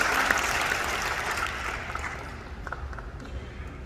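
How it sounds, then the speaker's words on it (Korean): Audience applause in a large church hall at a denominational general assembly, dense steady clapping from many people that swells at the start and gradually thins, heard alone without speech. "뜨겁게 박수해 주시기 바랍니다."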